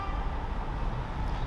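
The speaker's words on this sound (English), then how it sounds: "impatient people honking" Traffic outdoors beside a highway, a steady rumble of passing cars with faint car horns honking somewhere in the mix, continuous and moderately loud, no talk.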